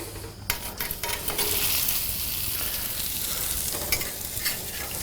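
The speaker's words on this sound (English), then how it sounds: "I'm going to get my patties on here" Burger patties sizzle steadily on a hot grill, a continuous bright crackle with a few louder pops and scrapes, close and alone with no talk.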